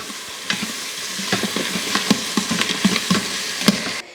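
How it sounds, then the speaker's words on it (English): A spoon scrapes and clatters rhythmically as chopped frozen mirepoix is stirred in an Instant Pot, under a steady sizzle. "And we're gonna give it a stir."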